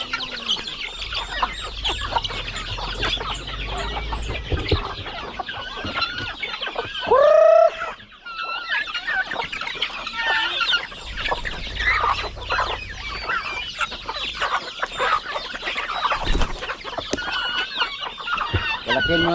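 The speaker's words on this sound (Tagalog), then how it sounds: "Yung iba natin manok." Chickens cluck steadily on a Filipino backyard farm where turkeys and chicks are also kept, a busy flock of overlapping clucks and calls, close and continuous, with a loud squawk or crow midway.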